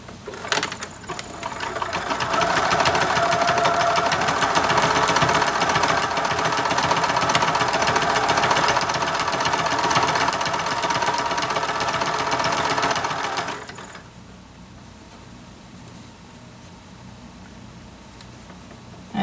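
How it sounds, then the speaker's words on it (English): Sewing machine stitching a buttonhole stitch while finishing a quilt with cording, a fast steady mechanical whirring that runs for about thirteen seconds, close and loud, then stops and leaves a quiet room. "I'm using my buttonhole stitch, which is one of my favorite stitches on my machine"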